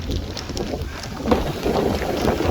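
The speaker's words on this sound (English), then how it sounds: "the wind is whipping now" Steady wind roaring and buffeting across an open golf course during an amateur competition round, a constant low rumble with gusty swells and no talk.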